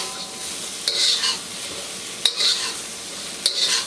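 Chicken stir-fries in a wok under a steady sizzle, with three sharp metallic scrapes of a utensil tossing the pieces at regular intervals, each followed by a brief hiss.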